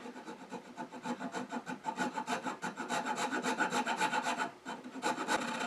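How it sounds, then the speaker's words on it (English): A square-sided rasp files wood on a turned rook chess piece box in fast, even back-and-forth strokes, close and rhythmic, continuing alone without speech. "finished up with a square-sided rasp to clean up the areas next to where I had a coping saw mark."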